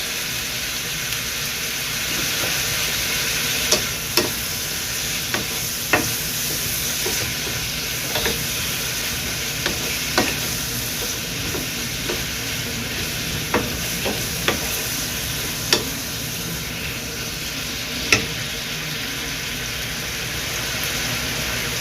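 Bottle gourd (upo) sautéing in a pan: a steady, close sizzle runs throughout, broken by scattered sharp clinks and scrapes of a stirring utensil.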